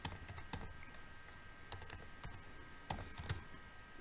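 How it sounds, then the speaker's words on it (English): Keystrokes tapping on a computer keyboard while entering search tags, coming in short irregular bursts of clicks at a quiet, close level with no speech. "I can type PhotoRec,"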